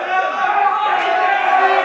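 Snooker match crowd in the Dave Williams versus Max Nosko game, a steady, dense roar of cheering and shouting voices that holds loud and even for the whole stretch.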